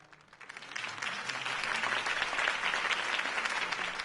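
Loud, sustained applause from a large crowd, swelling after a quieter start and continuing steadily throughout.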